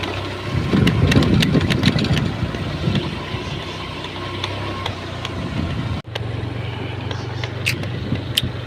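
A small scooter engine runs steadily close by with wind noise and some clicking, briefly dipping once before continuing at an even hum.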